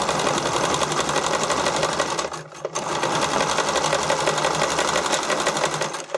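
A sewing machine runs steadily, stitching down an elastic strap for swimwear or spandex costuming, with one brief pause near the middle before the motor picks up again; no one talks over it.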